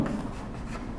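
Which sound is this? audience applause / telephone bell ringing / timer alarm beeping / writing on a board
writing on a board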